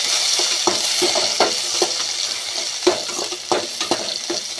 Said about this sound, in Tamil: இப்போ தக்காளி இதிலே வணக்கிக்கலாம்